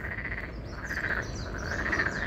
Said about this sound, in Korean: 개구리가 엄청나네요.